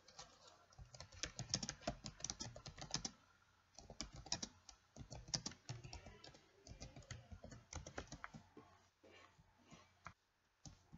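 Someone types a text message, a faint, close patter of quick key taps running in uneven bursts with brief pauses between them.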